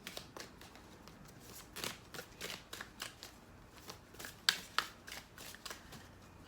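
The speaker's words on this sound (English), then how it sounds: "The shuffling is the hardest part." Tarot cards being shuffled by hand, a quiet, close run of soft riffling flicks and taps in an irregular rhythm, with a couple of sharper snaps and no voice over it.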